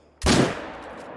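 A single hunting rifle shot in theHunter, loud and close, a sharp crack that decays into a brief rolling echo against near silence.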